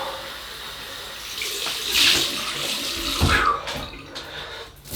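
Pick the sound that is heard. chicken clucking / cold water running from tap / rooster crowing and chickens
cold water running from tap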